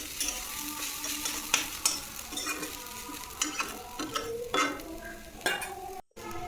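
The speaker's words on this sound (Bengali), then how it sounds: "ভালো করে আমি সমস্তটাকে ভালোভাবে মিশিয়ে নিচ্ছি" Vegetables are stirred as they fry in a pan, a soft sizzle under repeated scraping strokes of a spatula with irregular clacks and bumps, then a brief dropout near the end.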